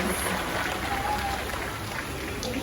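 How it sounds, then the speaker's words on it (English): A crowd claps steadily for a couple of seconds at a bird show in Jurong Bird Park, Singapore, the applause fairly loud and close, with faint murmuring underneath. "Let's give it up for Kaki and Tina. A playful applause."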